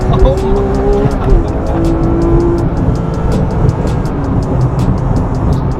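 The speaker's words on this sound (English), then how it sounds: "I love revving it" Porsche 911R sports car with a manual gearbox, its engine droning steadily and loudly at close range throughout, with faint tonal whines and light ticking above a dense low rumble.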